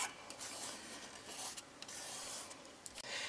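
Nuvo embellishment mousse is scraped off a plastic cutting board in continuous close rasping strokes, a dry gritty rubbing that swells and fades with each pass, no speech.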